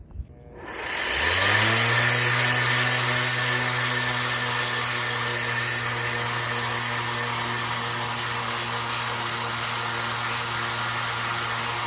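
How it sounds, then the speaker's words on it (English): A dual-action (DA) sander fitted with a flat 600 grit sandpaper disc spins up on an old axe head, then runs as a loud, steady whirring drone without pause. "I should be able to use just a flat sandpaper disc on my DA sander"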